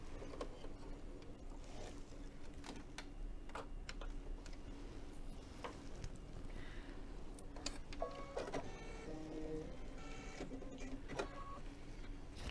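A sewing machine stitching a Kimberbell fill-in-the-blank project, heard as a quiet, steady mechanical whir and hum with faint ticking running the whole time, no one speaking.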